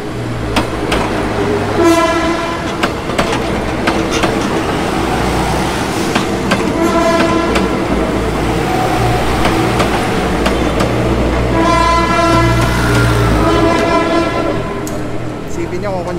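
A PNR train rolls past along urban tracks, a loud continuous rumble of wheels and carriages with repeated horn blasts near the start and again later, close by, with voices talking faintly underneath.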